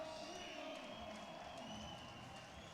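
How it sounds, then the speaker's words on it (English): A crowd applauds and cheers in a large judo arena after the under-60 kg final at the 2015 World Judo Championships in Astana, a steady wash of clapping and cheering that keeps up throughout. "he can take the plaudits of the crowd now"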